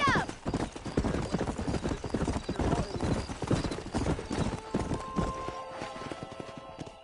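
Rapid clip-clop of horse hooves galloping in the Red Dead video game, loud and steady throughout, with a horse whinnying and people talking over the ride.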